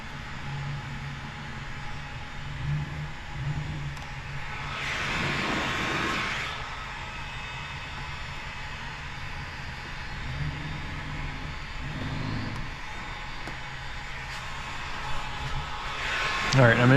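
A heat gun warming paint protection film on a Kia K5 front bumper gives a steady breathy whoosh, with a louder blast that swells and fades midway and another near the end, under a continuous low hum.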